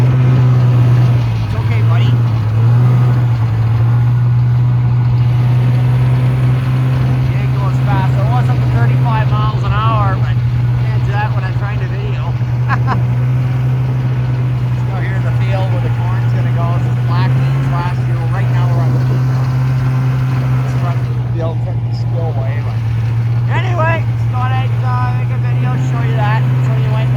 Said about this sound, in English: It's nice weather, so I figured might as well take the fucking snow machine out for a rip.